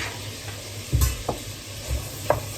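Sweet potato being stirred in a pot, with a few scattered low scraping knocks and light clinks over a soft sizzle, close by and no talk.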